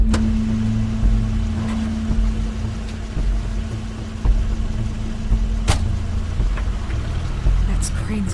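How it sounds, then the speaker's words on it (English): Crane's car in The Wolf Among Us, an engine drone with a steady low hum that runs the whole time, joined by a few sharp knocks and clicks over a rumbling backdrop. "That's Crane's car."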